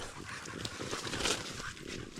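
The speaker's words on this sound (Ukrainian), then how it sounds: "Та вон собаки." Dogs bark faintly in the distance over a steady wash of outdoor noise, a few scattered yelps rising briefly.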